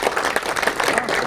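Dense, loud applause from an audience at a film promotion event in Patna, continuous through the short moment.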